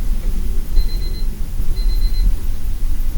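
An alarm beeping over a loud low rumble, two short bursts of high electronic tones about a second apart, close and clear with no talking.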